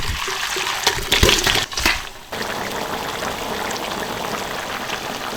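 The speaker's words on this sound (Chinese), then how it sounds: "倒在锅里，再收个汁哈" Braising liquid from red-braised beef ribs poured into a wok, a loud splashing rush for about two seconds, then settling into a steady bubbling hiss as the sauce reduces.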